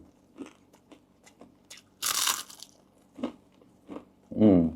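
Crispy fried pork offal from a spicy pork offal curry crunches between the teeth in a few sharp, close bites, with quieter chewing clicks in between and brief soft speech sounds.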